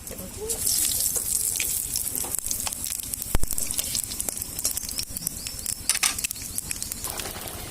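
Panch phoron, whole dried chillies and bay leaves sizzle and crackle in hot oil for a mango chutney, a busy spitting hiss with scattered pops and one sharp louder crack midway.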